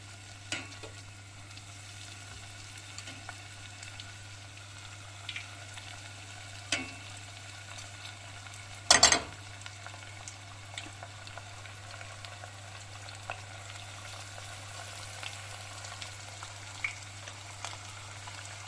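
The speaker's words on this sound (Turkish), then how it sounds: "Bunu şimdi kızartmaya götürüyoruz." Soft, continuous sizzling and bubbling of hot oil as coated chicken deep-fries in a pot, with occasional faint pops and one sharper clatter midway, over a low steady hum.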